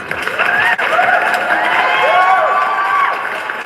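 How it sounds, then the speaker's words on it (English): A lively crowd cheers and claps with high whoops and shouting voices layered over the applause, loud and close, through the whole few seconds. "Let's give him a round of applause."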